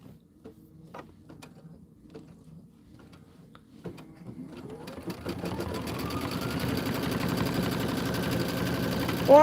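An embroidery machine starts stitching an autumn border design after a few quiet clicks, its rapid mechanical whirr building and continuing steadily for the rest.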